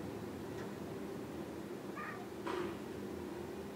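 A house cat meows indoors, two short mid-pitched calls close to the listener, over a steady background hum from game audio.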